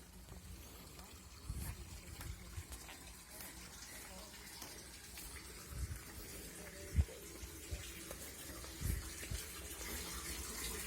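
A steady, faint rush of spring water flowing continuously from a tap at a mineral spring in Morshyn, Ukraine, with occasional soft knocks and muffled voices in the background.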